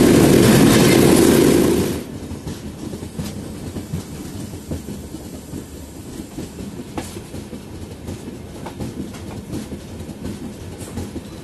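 The 15120 Rameswaram Express rolls along the rails near Jabalpur in the early morning, opening with a loud roaring rush for about two seconds before settling into a steady rumble with rhythmic clicking of wheels over rail joints.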